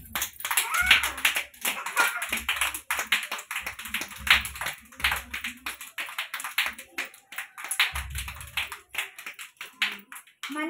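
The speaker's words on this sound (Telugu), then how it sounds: "పిల్లలు క్లాప్స్ కొట్టండి" Anganwadi children clap their hands in repeated bursts of sharp, fairly close slaps, with pauses between rounds and an adult voice speaking in between.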